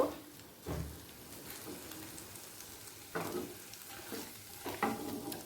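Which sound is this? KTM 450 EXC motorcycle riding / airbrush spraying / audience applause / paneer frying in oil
paneer frying in oil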